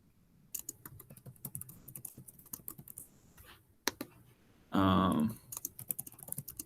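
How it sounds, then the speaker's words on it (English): Typing on a computer keyboard: irregular clusters of sharp, close key clicks with brief gaps, and one longer burst of rapid presses near the end. "I'm just going to type in something random, right?"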